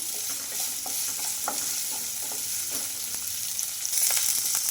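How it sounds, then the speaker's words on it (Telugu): Pieces of fresh coconut fry in a pan for a coconut vermicelli breakfast dish, giving a steady close sizzle with scattered stirring scrapes throughout and a brief louder burst near the end. "ఈ పచ్చి కొబ్బరి ముక్కలు కూడా కొంచెం ఫ్రై అయితే అవ్వాలండి"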